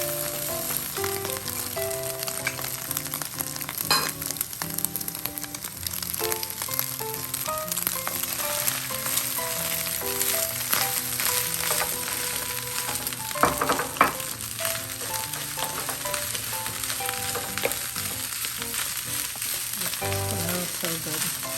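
Rice and crumbled egg stir-fried for sinangag in a hot pan, giving a steady loud sizzle with intermittent scraping and tossing from a spatula, close up throughout, and no one talking.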